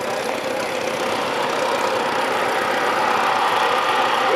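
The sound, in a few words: Case 1832K tractor engine running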